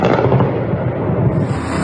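Explosions at night during an air-defense response, heard as a continuous loud, rumbling, noisy roar with no speech over it.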